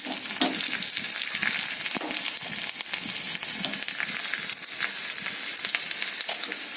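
Curry leaves fry with browned onions for a spinach-stem stir-fry, producing a continuous close sizzle peppered with crackles and the scrape of stirring.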